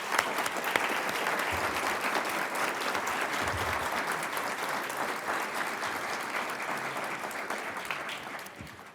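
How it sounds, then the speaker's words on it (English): An audience at a Tempe city council candidate forum applauds the candidates, a steady, full round of clapping that holds for about nine seconds before tapering slightly at the end. "give the candidates a round of applause"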